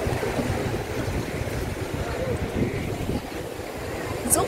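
Sea waves along the Kunkeshwar coast in Konkan wash in as a steady, broad rumble mixed with wind buffeting the microphone, continuous and fairly loud throughout, with no clear voices.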